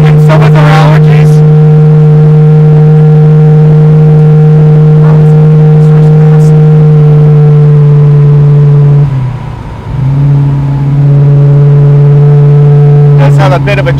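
A 1974 AMC Javelin hot rod drones steadily while cruising on country roads, a loud constant low engine tone with a brief dip and shift near the end as the car keeps driving.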